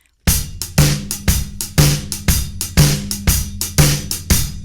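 Drum kit playing a steady swung shuffle groove with a snare backbeat, crisp cymbal and kick hits, loud and close with no talking.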